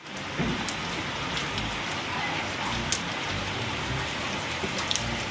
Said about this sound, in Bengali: শুনতে পাচ্ছ বৃষ্টি আওয়াজটা শুনতে পাচ্ছ